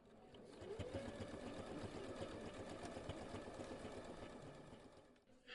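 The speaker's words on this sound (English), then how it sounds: "She's about to fire up her sewing machine." A domestic sewing machine runs steadily at a community repair cafe, a fast continuous mechanical whirr and needle chatter lasting several seconds at moderate level before stopping, with faint room ambience behind it.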